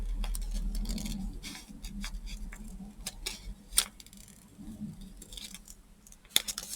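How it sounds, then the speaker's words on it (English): Scissors fussy cut around the edge of card paper for a 6x6 internal tunnel card, making a run of small, crisp snips and clicks at close range over a faint hum, with no talk. "And just fussy cut around the edge here."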